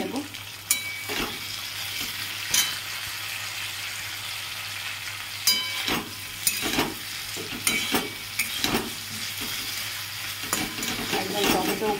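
Potato and pointed gourd curry with tomato cooking in a pan over low gas, sizzling steadily with a spoon scraping and stirring in irregular bursts, close and fairly loud, no talking.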